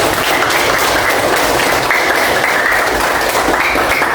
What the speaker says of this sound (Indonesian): Oke, kita berikan tepuk tangan untuk kita semuanya.